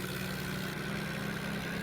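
Tractor engine pulling an empty trolley on a village road: a steady, fairly quiet mechanical drone with a low rumble, heard alone and without talk.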